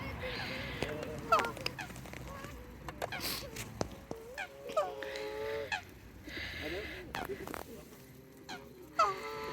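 Geese honk repeatedly at close range while being fed at a lake park, with bursts of loud, overlapping calls throughout and occasional voices nearby.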